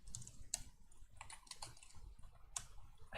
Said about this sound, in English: I hope my keyboard is not that loud